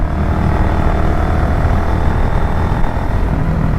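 Carburettor motorcycle engine, a Yamaha FZS version 1 or Suzuki Gixxer with over thirty thousand kilometres, revving under throttle with a loud, steady low rumble close by for the whole stretch, with no speech.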